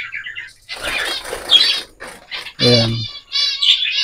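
Pet finches injured in a rat attack chirp in short, bright tweets and squeaks at close range, mixed with a person speaking.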